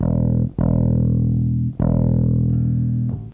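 A JHS Packrat distortion pedal makes an electric instrument sustain thick, buzzing, heavily distorted chords, briefly cut twice, loud and close.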